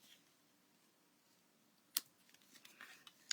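Two or three crisp scissor snips trim the edge of a folded paper card with a bit of greenery, quiet and close, with faint handling rustle between cuts.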